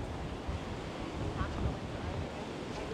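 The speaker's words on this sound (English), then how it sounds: "Windy out here today." Steady gusty wind roars across the microphone on an ocean pier at Nags Head, with surf washing faintly underneath, a continuous broadband rush that swells slightly midway.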